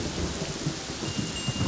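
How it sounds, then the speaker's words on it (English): Rain starting in the video game Yonder The Cloud Catcher Chronicles, a dense steady rush of falling rain with low rumbling undertones like distant thunder, loud and continuous with no voices. "Just as it starts raining."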